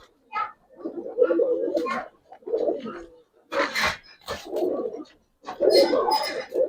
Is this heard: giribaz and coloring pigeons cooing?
yes